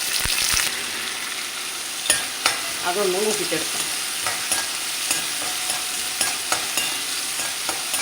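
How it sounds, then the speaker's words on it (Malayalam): Onion, garlic and curry leaves frying in hot oil for a drumstick leaf and egg thoran, giving a steady close sizzle with occasional scraping stirs of a spoon in the pan. "അതിന് ഒരു സവാള, വെളുത്തുള്ളി, കറിവേപ്പില അതൊന്ന് മൂപ്പിച്ചെടുക്കാം."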